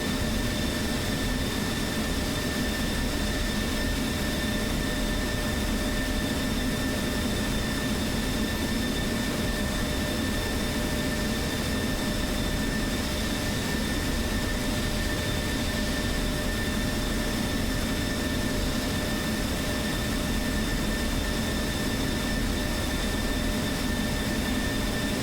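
Steady, loud jet roar from the engines of a B-52 bomber taking off in a flight combat video game, a continuous broad rush with whining tones that holds evenly throughout with no voices.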